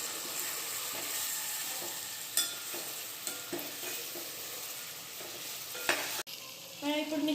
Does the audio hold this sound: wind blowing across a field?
no